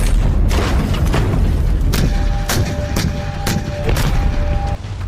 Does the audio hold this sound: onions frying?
no